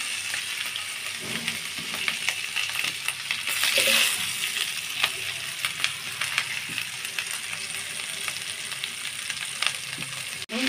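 Vegetables and soybean chunks frying in a well-cooked spiced masala give a steady, dense sizzle for the whole stretch, with occasional stirring scrapes and a brief clatter partway through.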